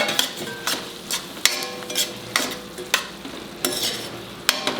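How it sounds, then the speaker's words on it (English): Mixed vegetables with scraped coconut and coriander stirred in a hot pan, a close, loud run of rhythmic spatula scrapes and knocks about every half second over a steady sizzle, no talking. "Stir it well."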